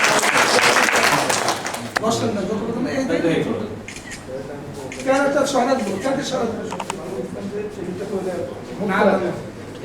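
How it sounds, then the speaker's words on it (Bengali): An audience at a ward committee special meeting of central Zia Sangsad leaders bursts into loud applause, dense clapping at the start that fades as a voice takes over and talk continues. "আরেকটা জোরে করতালির মাধ্যমে তাদের"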